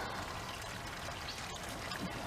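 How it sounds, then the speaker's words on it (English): Creek water pours steadily over a lip on a trail beside the Mississippi River, a continuous close rushing and splashing stream that holds even throughout with no voices. "See, the water's coming up over this."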